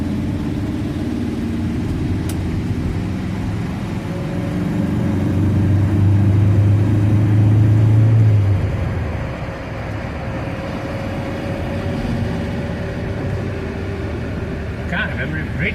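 Ford Zephyr MKIV V4 classic car idles with a blowing exhaust, a steady low rumble that swells for a few seconds and then settles, while someone talks over it.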